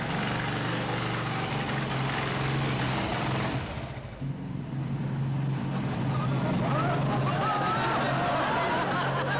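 A bus engine, running hot and overheating, drones with a rough, rumbling roar and windy rush, dipping briefly midway before surging back up loud and steady.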